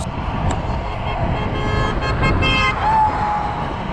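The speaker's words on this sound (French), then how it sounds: "3 vannes me doublent, klaxon à fond" Vans pass on an Ontario road with horns blaring at full blast, brief honks rising over a continuous close rumble of engines and tyres.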